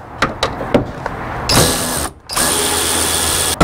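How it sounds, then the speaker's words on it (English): A socket wrench works a tail light bolt on a Toyota Tacoma, giving a few quick ratchet clicks followed by longer, loud bursts of continuous whirring, close by with a brief gap in between. "you're gonna remove this bolt that's right here"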